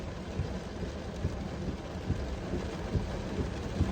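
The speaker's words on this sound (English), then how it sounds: "This rain is wild." Steady heavy rain pours down in a dense, continuous hiss, with a low rumble underneath and no voices.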